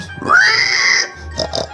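Person imitating a pig, one long drawn-out nasal squeal followed by two short grunting oinks, close and loud.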